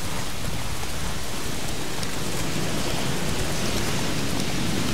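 Storm rain in The Witcher 3, a loud, dense and unbroken hiss of heavy rainfall pouring down throughout.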